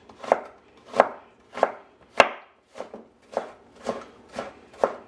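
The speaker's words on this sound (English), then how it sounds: "put it on the side and cut it into tiny little cubes" Knife chopping pepper into tiny cubes on a board, about ten crisp, evenly spaced strikes that ring out close and clear with no voices.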